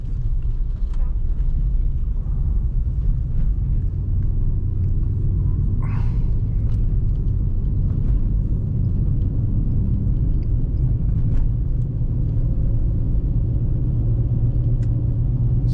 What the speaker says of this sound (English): so now you're getting a little bit of road noise.